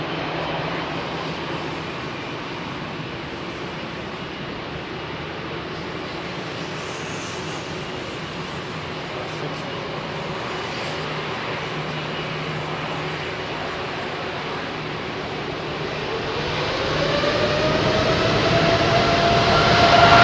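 A Boeing 767-400 jet takes off at London Heathrow in smoky conditions, its broad engine roar steady and fairly distant before swelling louder toward the end as it climbs out.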